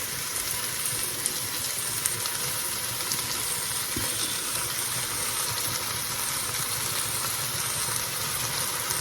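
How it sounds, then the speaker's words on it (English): Curry chicken simmering in a pot, a steady broadband bubbling hiss that holds evenly at moderate loudness throughout, with no talking. "It's just going to simmer. That's all this is doing, is simmering."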